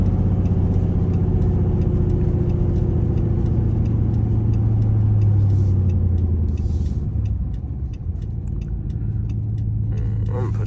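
A Dodge Charger R/T fitted with longtube headers drones loudly at night, a heavy, continuous low exhaust rumble with slight pitch shifts and a light ticking over it, eased off briefly near the end.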